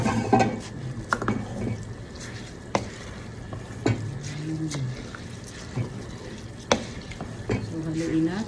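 Soaked rice mixture, about 1.5 kilos, is stirred for rice cake, with scattered scrapes and knocks against the container at an uneven pace and a low murmur underneath.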